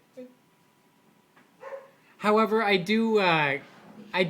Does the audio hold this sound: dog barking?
yes